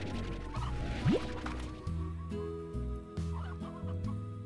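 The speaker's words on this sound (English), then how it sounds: "I hear some more chickens." Chickens cluck repeatedly in short bursts in the video game Slime Rancher, over a steady background hum, with a brief liquid drip sound partway through.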